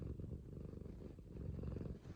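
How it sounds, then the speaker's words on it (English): A soft, close cat purr rumbles steadily and continuously, low and quiet, with gentle rhythmic pulsing and no other sounds. "You got enough purrs to share"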